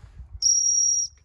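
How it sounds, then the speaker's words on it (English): A single steady, shrill whistle for gundog training with Labrador, cocker and springer spaniel puppies, held for about half a second and then stopping abruptly, close and alone. "it's a warble from the back of the throat"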